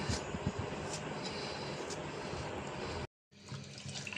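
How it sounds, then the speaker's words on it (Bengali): A kitchen tap runs steadily as salted fish and bottle gourd greens are rinsed, a continuous close splashing stream that briefly stops before resuming. "এখন ধুয়ে নিব আর শাকটাও ধুয়ে নিব"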